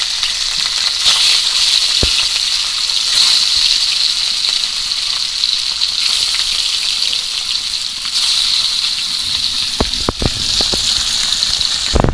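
Rohu fish pieces, rubbed with salt and turmeric, frying in mustard oil over a lit stove: a loud, constant hissing sizzle close by, with a few sharp clicks near the end and no talking.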